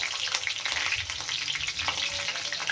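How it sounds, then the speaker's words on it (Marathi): Cumin seeds and four green chillies hit hot oil for a bright, crackling sizzle that stays loud and close throughout, with rapid popping and no talking. "तेल झालेलं आहे गरम आता त्यात घालूया आपण अर्धा चमचा जिरे चार मिरच्या"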